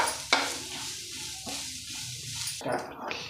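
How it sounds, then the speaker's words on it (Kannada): Grated coconut frying in a pan, a soft sizzle broken by several scraping strokes of a spatula stirring, close and clear. "ಈಗ ತೆಂಗಿನ ತುರಿ ಸೇರಿಸ್ಕೊಳ್ತಾ ಇದ್ದೀನಿ, ಸ್ವಲ್ಪ ಫ್ರೈ ಮಾಡ್ಕೊಳ್ಬೇಕು"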